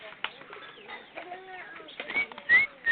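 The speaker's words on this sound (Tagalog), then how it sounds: "Ayun po ang kalapati" Pigeons flap their wings outdoors in bursts of fluttering, mixed with soft bird calls and faint background voices, the loudest flurries coming near the end.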